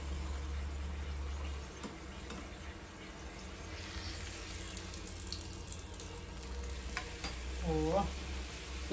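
Food frying in hot oil in a home kitchen, a steady soft sizzle running throughout with a brief clatter of stirring or utensils near the end, no talking.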